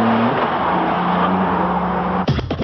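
Mercedes CLK GTR supercar with a six-speed gearbox and over 600 horsepower, its engine holding a steady loud drone before a sharp burst of revving near the end.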